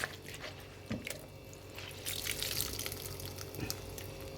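Salted spinach is squeezed by hand, letting out water in faint, wet trickles and drips with soft squelching pulses, close by.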